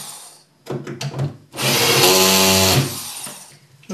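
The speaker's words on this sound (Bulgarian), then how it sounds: "завиваме долните болтове" A power drill drives in the lower bolts of a door or lid, a few short trigger bursts followed by a longer loud whirring run that winds down, close and without talk.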